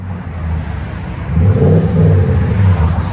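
A 2014 Toyota Tundra with a 5.7L V8 and a Flowmaster Super 40 dual exhaust gives off a loud, deep rumble. It swells into a brief rev partway through, with no voices.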